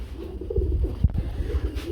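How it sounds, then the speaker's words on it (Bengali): White Lakha pigeons at a pigeon market, giving soft, low, close coos in a short burst of repeated throaty calls. "খুবই সুন্দর হোয়াইট কালারের মধ্যে এক দুটো লাক্ষা কবুতর রয়েছে"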